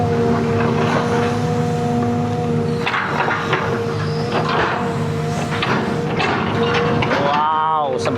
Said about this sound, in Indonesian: Gerakan beko yang cukup agresif ya